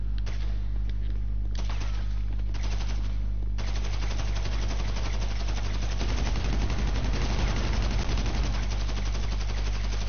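A minigun fires in GTA V, starting in short bursts and then running as a continuous, loud, dense stream of rapid shots over a steady low engine-like hum, with no talking.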